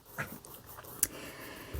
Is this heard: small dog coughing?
yes